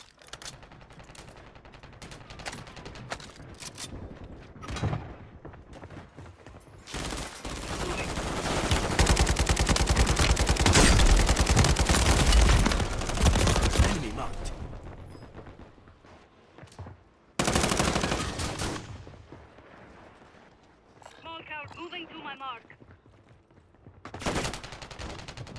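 Gunfire in a first-person shooter video game: sustained loud automatic bursts and scattered single shots crowd the clip, with a long dense barrage in the middle, short pauses between volleys and faint in-game voice callouts underneath.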